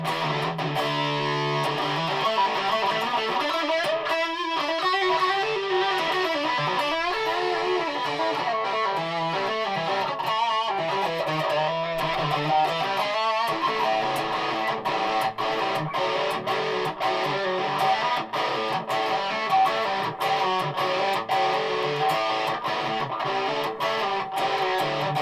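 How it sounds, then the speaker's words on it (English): Electric guitar on the bridge humbucker played through a Rat distortion pedal, a continuous gritty, overdriven riff with sustained notes and chords, heard alone and fairly loud throughout. "Rat pedal, bit of distortion,"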